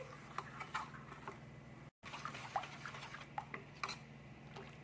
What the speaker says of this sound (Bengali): জলটা দিয়ে আমি বেটারটা ভালো করে ঘেটে নিচ্ছি জলের সাথে নুন আর জল পুরো ভালো করে যেন মিশে যায়